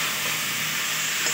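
Vegetables frying with spices in a pan for a vegetarian labra curry are stirred, giving a loud, steady hiss and sizzle of hot oil with faint scraping, no voices.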